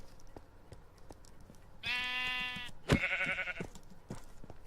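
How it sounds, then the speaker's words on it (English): Two synthetic sheep bleats from Minecraft, a video game, one long wavering call followed by a shorter one, fairly loud and close over a soft background hum. "And we have some sheep."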